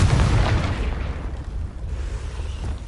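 A Confringo fire spell explodes in the video game Hogwarts Legacy with a loud, deep boom. The blast decays into a rumbling, crackling tail.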